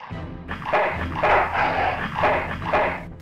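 A dog in the Full Throttle Remastered video game gives a series of about five loud, evenly spaced barks and yelps, heard close and alone.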